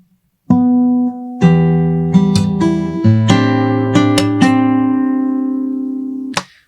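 Fingerstyle acoustic guitar playing the opening bar of Pavane of the Starry Night, with a series of clear, ringing plucked notes and chords struck one after another, sustaining close and loud with no talk.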